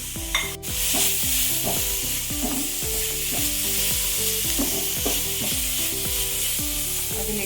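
Vegetables frying with pepper in a pan for chicken soup, loud continuous sizzle broken by repeated rhythmic scrapes and clinks of a stirring spoon, close up with no talking.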